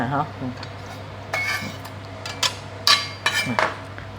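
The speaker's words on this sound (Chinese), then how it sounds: "这里总共有3粒啦香菇我也是切一点点给你们看" Knife cutting shiitake mushrooms on a board: a few close, crisp chops and clicks spaced irregularly, with faint kitchen clatter over a low hum.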